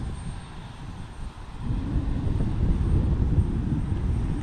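An aircraft on runway 28 left at Portland International Airport gives a broad engine roar that builds and swells partway through, holding steady and fairly loud, at a distance, with no speech.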